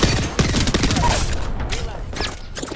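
Rapid bursts of gunfire in the Apex Legends video game, loud, sharp repeated shots packed closely at first, then sparser pops later, with game voice lines briefly over the shooting.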